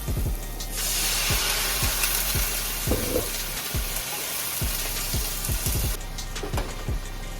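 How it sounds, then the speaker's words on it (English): A pan of mushrooms and onions sizzles loudly and steadily after a splash of broth is added, with a dense hiss broken by scattered pops and clicks, and no voices. "I'm going to add just a little bit of broth"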